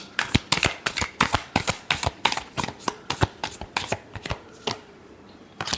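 Tarot cards being shuffled by hand, a quick run of crisp riffling snaps and flicks in an uneven rhythm, close and fairly loud, with no talking.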